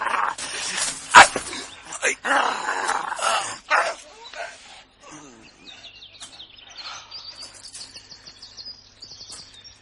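A dog in a French radio drama barks in a loud flurry of sharp yelps and snarls, then settles into softer whimpering and whining, with voices speaking over the early barks.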